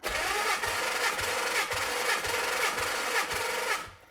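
A Nissan 300ZX Z32's twin-turbo VG30DETT engine cranks on the starter during a compression test, with oil added to a cylinder. The loud, steady whir pulses evenly with each compression stroke for about four seconds, then cuts off.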